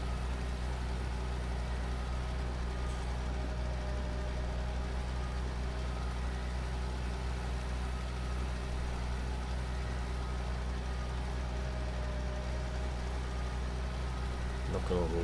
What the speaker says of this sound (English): So this is another quite lightweight, high horsepower, or high-ish horsepower tractor.